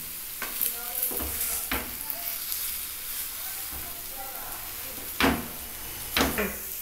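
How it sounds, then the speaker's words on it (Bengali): Large pieces of papaya dhoka fry in a pan with a continuous sizzle, while a spatula turns them and knocks on the pan in several loud clacks. "লাল লাল করে বেশি করে ভেজে নিয়েছি"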